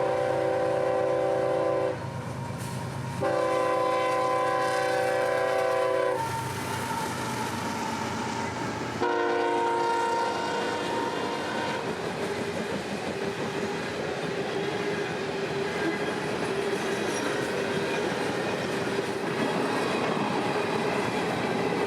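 A train rolls past at a steady cruising speed of about 60 mph on a Florida line, a loud continuous rumble and rush with sustained tonal horn-like bands early on, then fading into a broad, even roar.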